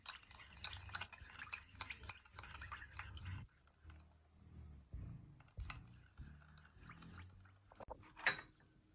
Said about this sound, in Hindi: इतना मिक्स करना है कि हमारी जो फिटकड़ी है वो इस में ग्लिसरीन और रोज़ वाटर में अच्छी तरह से मिक्स हो